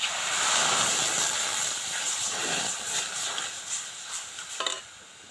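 Water poured into fried semolina in a pan, a sharp hissing sizzle that fades as it is stirred, with scraping strokes and a few clinks near the end, close and fairly quiet.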